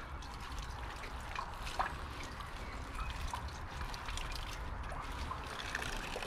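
Water trickles steadily from a small stream over a piece of scrap metal as it is rinsed outdoors, a continuous soft splashing flow at moderate level with no talking.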